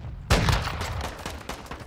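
Gunfire in the video game Call of Duty: Modern Warfare II multiplayer on PS5, a loud sharp shot followed by a rattling burst and scattered further reports over distant battle noise.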